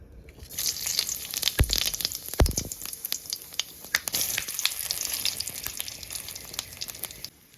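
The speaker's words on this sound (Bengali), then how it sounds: "এবার ফোড়ন দিয়ে দিচ্ছি।" Whole spices, cloves and bay leaves hit hot oil for a tempering in a village-style banana flower dish, giving a crackling sizzle with scattered pops and a couple of heavy thumps near the start.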